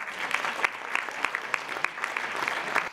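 An audience at an official signing ceremony in Le Moule, Guadeloupe claps steadily, with distinct individual hand claps standing out over a moderate, evenly sustained round of applause.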